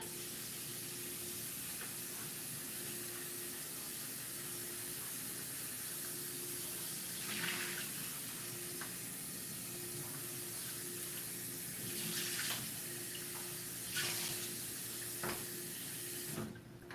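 Running water rinses something in short, quiet spraying bursts over a constant background hum, with no talking.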